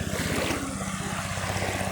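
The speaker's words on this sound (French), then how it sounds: "Un hélicoptère." Helicopter passing overhead, a steady loud rotor chop with rapid regular low thumping and engine roar throughout, no talking.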